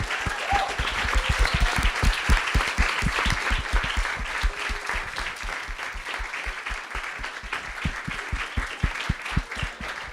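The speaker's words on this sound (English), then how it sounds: "One more round of applause, please." Sustained applause from an audience at a commemorative community gathering, steady dense clapping filling the whole stretch with sharp individual claps standing out near the front.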